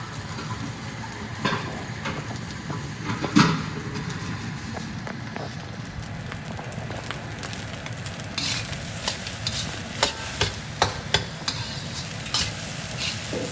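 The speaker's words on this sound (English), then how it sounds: "you just kind of mixing that oyster sauce in" Oyster sauce is stirred into crab and Chinese sausage egg fried rice in a hot pan. A steady sizzle runs throughout, broken by scattered scraping and clinking of the utensil against the pan, with no talking.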